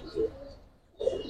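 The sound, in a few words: pigeons cooing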